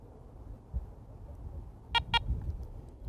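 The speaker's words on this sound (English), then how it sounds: "When you hear that double beep," Garrett ACE 400 metal detector giving a quick double electronic beep on factory reset, two short, bright tones in close succession over quiet background hiss.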